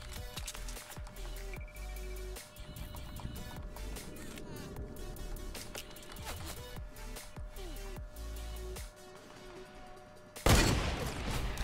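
Gunfire in the Fortnite video game during a solo Blitz mode match, repeated shots and bursts over a busy game soundscape with footsteps, ending in a loud noisy burst.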